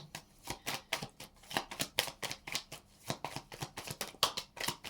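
Tarot cards are shuffled and drawn by hand in a quick, close run of crisp riffling slaps and soft flicks, repeating steadily for several seconds with almost no talk.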